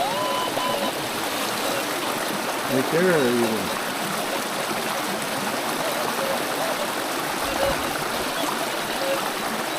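Steady rushing water of a stream at old gold-mining diggings, a broad continuous wash throughout, nearby and moderately loud, with people talking over it.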